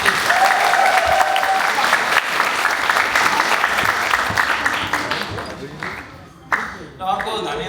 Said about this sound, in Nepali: हामी एकचोटि ठुलो ठुलो ठुलो ताली बजाएर परमेश्वरलाई धन्यवाद दिन्छौँ